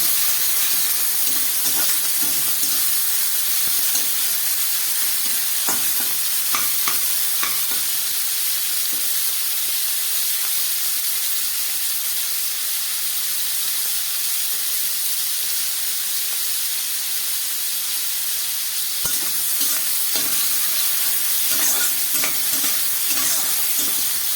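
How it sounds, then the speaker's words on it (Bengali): Salted, turmeric-coated prawns frying in hot oil, a loud, steady sizzle and hiss that continues throughout, with occasional faint clinks of a utensil in the pan. "গরম তেলের মধ্যে আমি কিছুটা চিংড়ি মাছ ভেজে নিচ্ছি।"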